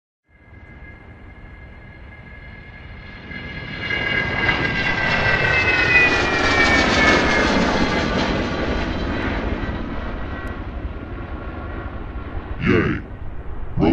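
A fixed-wing airplane taking off in a cartoon, its engine roar swelling from a steady whine to a loud, broad rush that holds and lingers, close and dominant, with a brief sharp burst near the end.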